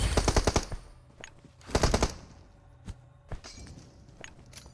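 Automatic gunfire in PUBG Mobile: two tight bursts of rapid shots in the first two seconds, then a few scattered single cracks and thuds, all fairly close and loud, with no talking.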